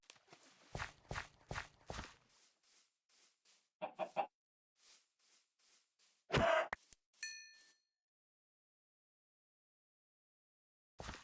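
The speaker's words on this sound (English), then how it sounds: "chicken." A Minecraft chicken in the SevTech Ages modpack clucks in short bursts among blocky footstep taps and a few game effect sounds, near and clear, then silence.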